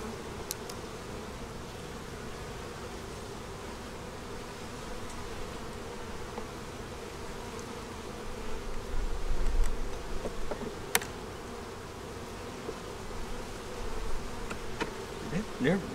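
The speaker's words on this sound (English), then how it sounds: "The bees like going in and out of there" Honeybees hum steadily around a hive entrance, a dense droning buzz that swells briefly in the middle, with a few faint clicks and taps.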